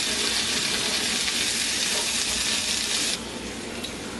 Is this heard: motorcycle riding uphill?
no